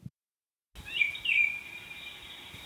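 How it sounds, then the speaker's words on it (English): After a short silence, an electronic bird song plays: looping chirps and whistles, clear and close, repeating over a steady background. "this is the sound of my sunrise alarm clock"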